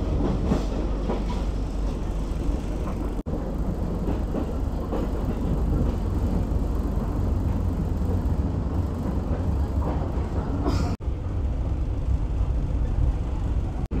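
The Mutiara Timur train running straight through Wonokromo station, heard from inside as a steady loud rumble with rhythmic rail clatter, continuous for the whole stretch.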